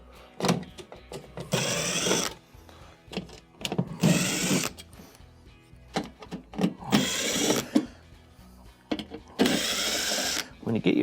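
A powered screwdriver removes five Phillips screws from a refrigerator cover, with repeated short whirring bursts alternating with handling clatter close by.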